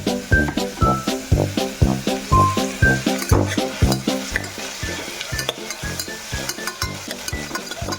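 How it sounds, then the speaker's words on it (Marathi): Onions sauté in a pan for masale bhat, a loud rhythmic series of sizzling bursts as a spoon stirs them over and over, close and steady with no voices. "आधी कांद्याला जरा परतून घेतो मी."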